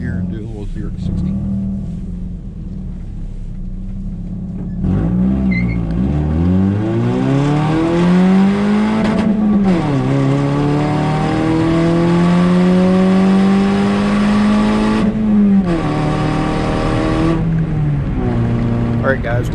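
A tuned Toyota Yaris with a reflashed ECU accelerates hard from 0 to 60, its engine rising loud and close through several gears with clear drops at each shift, revving high before easing off at the end.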